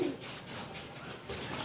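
Young racing pigeons give a soft, brief cooing that is faint and close, over low background noise.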